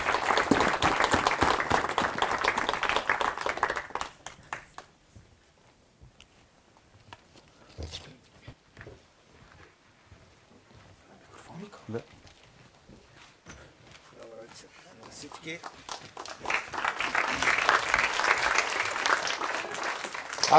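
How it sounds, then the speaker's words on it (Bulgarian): A lecture-hall audience applauds for a man named Georgi Mishev, who was called up from the crowd. Loud sustained clapping opens the clip and fades after about four seconds. A quieter stretch with scattered noises follows, and a second burst of clapping swells near the end. "Аплодисменти."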